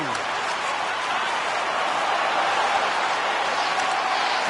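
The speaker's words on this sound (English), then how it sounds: "And the crowd's on their feet, saluting the team after a hard-fought effort this evening." A hockey arena crowd applauds and cheers a team at the end of a hard-fought game, a dense, steady wash of clapping and crowd noise that fills the whole stretch at moderate loudness.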